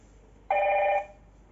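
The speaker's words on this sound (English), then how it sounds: "See, this one is ringing only." A Hikvision DS-KIS602 intercom screen rings with a single steady electronic tone lasting about half a second, clear and close, then cuts off against a quiet background.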